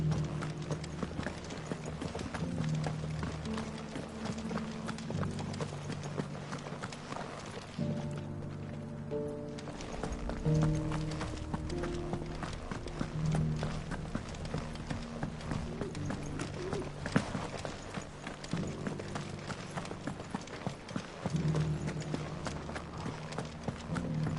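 Horse hooves clip-clop steadily at a walking pace in the video game Final Fantasy XVI, a continuous rhythmic clatter against a faint ambient background.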